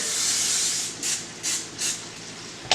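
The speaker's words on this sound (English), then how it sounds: "we're going to use some olive oil. We're going to just spray it" A steady broadband hiss of olive oil spray onto crappie fillets runs for about a second, followed by three short bursts and a final quick spritz, close and fairly loud, no talking.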